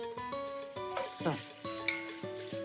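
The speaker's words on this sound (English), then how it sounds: "let's get the bacon rendering" Small cubes of bacon fry and render in a pan with a quiet, steady sizzle, partly masked by a tonal background melody, over a couple of seconds.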